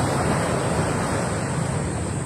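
Waves wash steadily onto a beach, a continuous broadband roar of surf with wind buffeting the microphone, no clear individual breaks, loud and close throughout.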